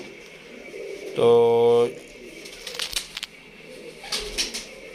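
Pigeons, the birds kept in a Lahore Shad Bagh loft, give one loud, close cooing call of about a second, followed by faint flutters and scattered soft bird sounds, with a brief word of speech.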